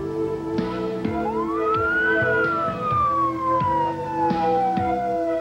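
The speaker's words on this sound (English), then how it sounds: "the trooper's lights and siren" A highway patrol siren wails, rising then slowly falling, over the rumble of the moving patrol car with periodic thumps from the road, during a pursuit on I-70.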